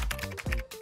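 Quick keystrokes clatter on a computer keyboard during gaming, a brief burst of close, rapid taps with no voices.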